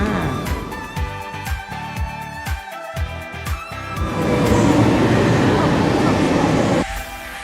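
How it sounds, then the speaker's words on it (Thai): A first-class passenger train running from Rabat to Casablanca in Morocco, heard from inside the carriage: loud, steady rumbling and rhythmic clacks of wheels on rails, building to a continuous roar. "ตอนนี้เราอยู่บนรถไฟนะคะ"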